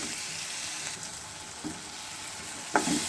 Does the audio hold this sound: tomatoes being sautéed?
yes